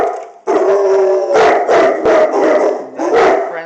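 Several dogs howling together at close range, loud and sustained, with overlapping wavering howls broken by brief pauses and a few yips.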